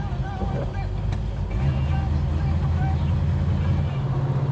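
A 1968 Dodge Dart GT with a 440 V8 drives along, its engine a steady loud low rumble with a slight rise in pitch partway through as it pulls, continuous for the whole stretch.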